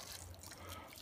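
Water poured onto peat moss and fibers in a large dose, a faint, steady trickle and splash with soft hiss, heard alone.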